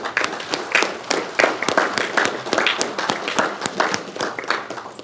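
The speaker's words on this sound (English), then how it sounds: "Let's give them a round of applause, please." A board meeting audience gives a round of applause, a continuous patter of many hands clapping at close range, fairly loud and even throughout with no talk.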